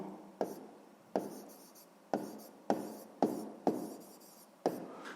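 Pen writing out a sixth-grade math solution on paper, seven evenly spaced strokes, each starting with a sharp tap and fading in a short scratch, close and quiet with no talking.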